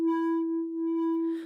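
Factory preset Snorkel Rock on the Delta Sound Labs Fold 1.0 synth plays a pure, steady tone with bright harmonics, two sustained notes back to back, the second ending in a burst of airy noise.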